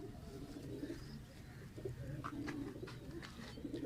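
Low, throaty pigeon cooing rolls on steadily at a moderate distance, with faint chirps and rustling mixed in and no talking.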